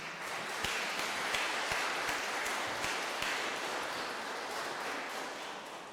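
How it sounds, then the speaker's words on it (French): Steady applause from a church audience rolls on at moderate volume, many hands clapping in a continuous patter with a few sharper claps standing out. "On peut les applaudir."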